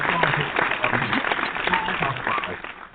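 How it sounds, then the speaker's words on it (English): A small group in a radio studio claps for Rock Bottom, third-place finishers with 274, during a barbershop talk show. The clapping is steady and close, with talk and laughter running over it for about three seconds. "We'll give them a round of applause too."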